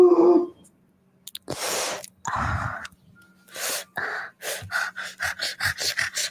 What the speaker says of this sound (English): There's some breathing exercises for you